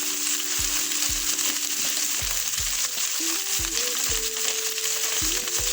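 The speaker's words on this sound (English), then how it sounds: "In a hot pan, I'm going to add a little bit of vegetable oil" Vegetable oil sizzles in a hot pan before a steak is added, a bright, steady crackling hiss heard up close over soft background music, with no talking.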